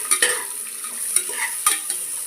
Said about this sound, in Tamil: இது நல்லா கோல்டன் ப்ரௌன் வர வரைக்கும் வதக்கி விட்டுக்கோங்க.